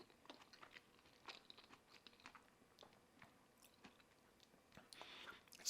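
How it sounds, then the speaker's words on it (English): Someone chews a bite of invisible apple cake with crunchy almonds, giving faint, close crunches and soft squishy bites in an irregular rhythm, with no talking. "And you get a nice little crunch from those almonds."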